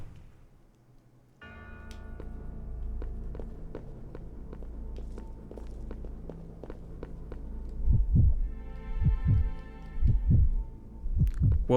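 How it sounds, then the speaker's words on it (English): A heavy, throbbing heartbeat effect plays in Resident Evil 0 during a character switch, with thumping beats over a low droning hum that grow louder and more pronounced toward the end. "if you hear the heartbeat effect and you see like the weird distortion, that means I'm switching characters"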